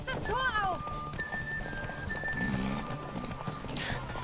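Horse hooves clip-clop in a rapid galloping rhythm while riding in the Witcher 3 video game, with a horse whinny near the start and a game soundscape throughout.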